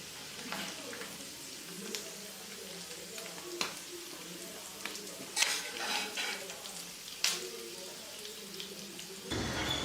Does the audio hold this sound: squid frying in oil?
yes